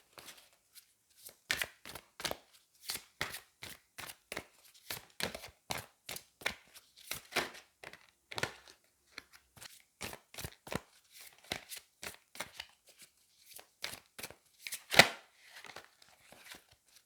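Angel oracle cards are shuffled by hand in a quiet room, a long run of crisp, rapid riffling bursts and soft slaps repeating close up without talk.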